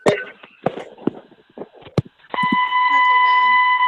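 Steady electronic beeping from a participant's open microphone on a webinar call sets in after a stretch of scattered clicks and knocks, then holds as a continuous tone to the end.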